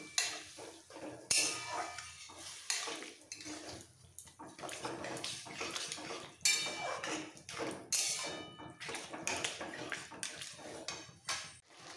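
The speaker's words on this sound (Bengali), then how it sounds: "এইবার একসাথে মশলার সাথে ভালো করে কষাবো।" Boiled vegetables stirred with spices in a pan for pav bhaji, a spoon repeatedly clattering and scraping against the metal with wet, mushy squelches in an irregular rhythm, close and fairly loud with no talking.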